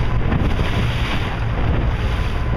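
Loud, steady rush of a motorboat planing fast over water, with heavy wind roar and spray noise throughout.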